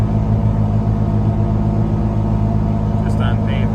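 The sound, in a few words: vehicle engine accelerating on takeoff on pavement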